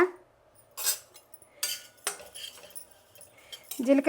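Cumin seeds dry-roasting in a pan as a utensil stirs them: intermittent close scrapes, clinks and rattling bursts with short quiet gaps between.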